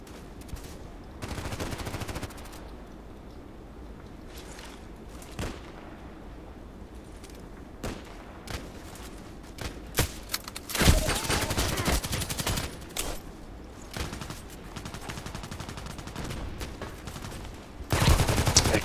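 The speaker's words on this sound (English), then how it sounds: "Who's shooting at me and my own?" Gunfire aimed at the player in a shooter video game, SV98 sniper rifle match: scattered sharp shots and short bursts, with heavier sustained firing and explosive rumble near the middle and at the end.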